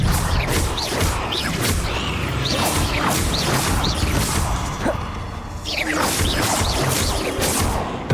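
Expelliarmus is cast in Hogwarts Legacy amid busy spell combat: a steady run of magical whooshes, crackles and impact thuds layered over a continuous dense rumble of game sound.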